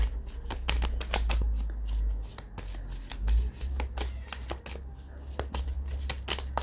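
Oracle cards being shuffled by hand in quick, uneven bursts of riffling, close and fairly loud, with a low background rumble underneath.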